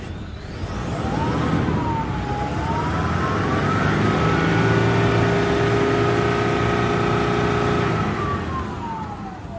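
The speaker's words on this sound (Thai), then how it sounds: "ทีนี้เดี๋ยวผมจะลองเร่งเครื่องให้ดูหน่อยนะครับ ว่าถ้าเร่งเครื่องแรงๆเนี่ย มันจะมีควันไหม" A 2007 Toyota Vigo 3.0E Prerunner pickup with a manual gearbox revs hard while parked, its engine note climbing, holding high and falling again in one long, loud, close-up sweep with no talking.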